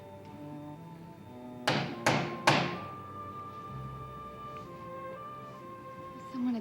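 Three firm knocks land on a door in quick succession, sharp hollow thumps standing out over soft background music that continues afterward.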